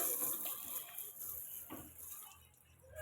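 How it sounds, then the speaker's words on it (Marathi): Water spraying onto a car during a wash, a faint, steady hiss of water with a soft splash as it runs over the bodywork, nothing else prominent. "पाणी मारतो आता मी गाडीवरती."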